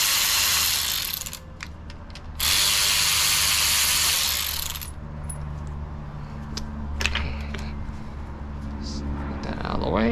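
An Audi timing chain tensioner is worked loose with a T30 bit, giving bursts of quick metallic ratcheting clicks up close, followed by lighter clinks and tool handling.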